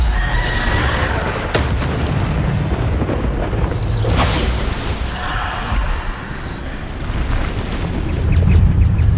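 Bombarda explosion spell cast in the video game Hogwarts Legacy, a loud booming blast with rumbling debris and crackling bursts, repeated through a continuous, dense stretch of combat noise with no talk.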